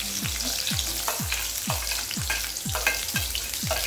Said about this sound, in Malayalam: ഇനി അതിലേക്ക് ചെറിയ ഉള്ളി ചെറുതായി അരിഞ്ഞത് ചേർത്ത് കൊടുക്കാം.